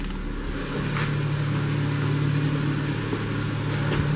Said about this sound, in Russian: Работа двигателя стабильна.